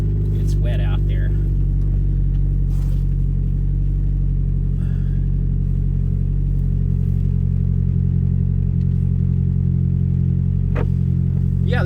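A Ford Focus engine idles with a steady, burly exhaust drone on a cold, wet day at an auto sports driver event, running constantly and close by under occasional talk.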